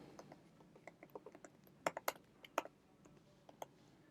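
Typing on a computer keyboard while entering a username on a PC: a quiet run of irregular clicks and key taps, a few sharper strokes standing out, close and alone with no speech.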